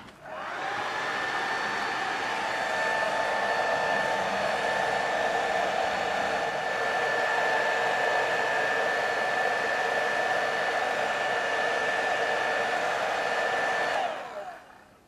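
A hair dryer blows steadily for about fourteen seconds, drying paint on a model diorama building, its airflow roaring close and loud with a constant whine before cutting off near the end.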